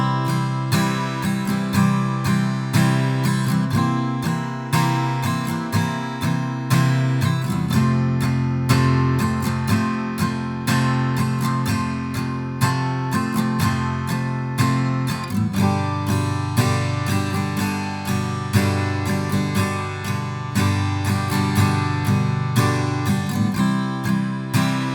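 Strummed guitar chords ring out continuously with steady rhythmic strokes, full and close, playing a short progression with no voices.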